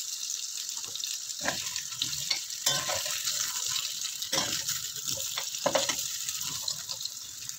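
Potatoes browning in a pan give a continuous close hiss and sizzle, with intermittent clatters and scrapes of a utensil moving them about.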